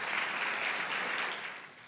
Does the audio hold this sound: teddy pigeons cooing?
no